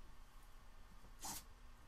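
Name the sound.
sneeze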